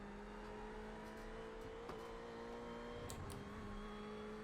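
A Ferrari GT car's engine drones steadily from the cockpit at Monza in the iRacing sim, a low faint whine holding pitch with a slight shift near the end.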